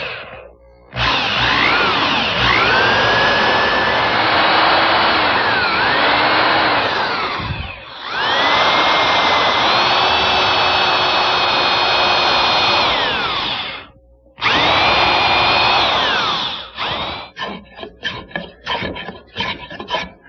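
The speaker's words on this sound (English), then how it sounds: "and drill a hole." Power drill boring a hole into the wooden crest rail of a Windsor chair, loud sustained whining bursts with pitch glides, three main runs separated by short pauses, ending in several quick stuttering pulses.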